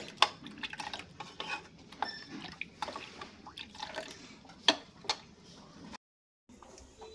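A spoon stirs mango pudding mixture in a bowl, making repeated close clinks and scrapes against the dish with soft wet sounds, briefly pausing near the end.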